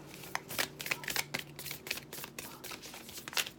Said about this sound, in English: let's pull an oracle card